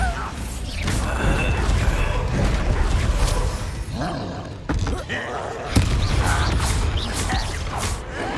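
Repeated booming magical blasts from the Bombarda spell in Hogwarts Legacy, several loud crashing impacts over continuous combat clatter and a shouting voice casting spells.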